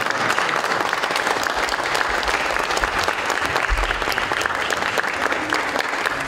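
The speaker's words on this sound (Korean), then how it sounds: "감사의 마음을 담아 큰 박수로 다시 한번 축하해 주시기 바랍니다" An audience at a school's 133rd anniversary ceremony applauds, a dense, sustained roar of many hands clapping that stays loud and even throughout, with no speech over it.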